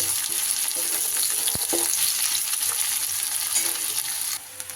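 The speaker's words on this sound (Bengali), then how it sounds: "এই কড়াইয়ের এই তেলতে দিয়ে দেব তেলে দিয়ে দেব একটা পেঁয়াজ কুচি" Chopped onion frying in hot oil in a kadai, a loud, even sizzle that runs continuously, with a brief stirring knock partway through and a slight drop at the very end.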